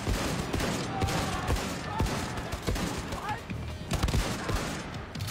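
Shotgun fire in the video game Wolfenstein, heard as repeated sharp blasts amid a busy, continuous battle din, with a voice speaking at times over the gunfire.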